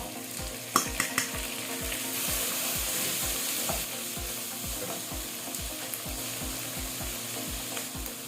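Onion and tomato fry in a pan with a steady, dense sizzle, joined by brief clicks and scrapes of stirring near the start; no one speaks.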